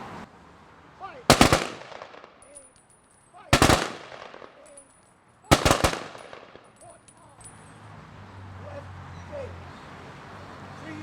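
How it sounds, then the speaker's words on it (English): A ceremonial rifle volley at an outdoor veterans' statue rededication in Fall River: three loud, evenly spaced volleys about two seconds apart, each a tight cluster of shots, followed by quieter ambient crowd sound. "be ready there for the rifle volley, followed by taps"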